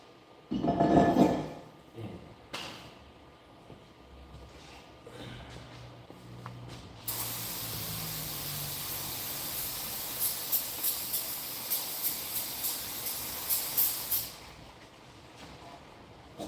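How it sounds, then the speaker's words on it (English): Brake cleaner sprays onto the brakes of a 2020 Chevy Equinox 1.5T in a steady hiss, broken into several short bursts near the end, after some quieter handling noise. "a little bit more brake cleaning than I need"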